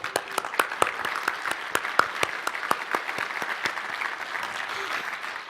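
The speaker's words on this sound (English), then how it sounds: "I think it deserves that applause." A design conference audience claps in a sparse, steady patter of distinct hand claps, fairly close and carrying on for several seconds without speech.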